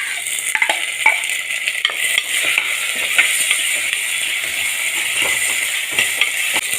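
Tomato and chopped small onions stirred and fried in a pan for a Kerala fish curry, a steady close sizzle with frequent scraping stir clicks throughout, no talking.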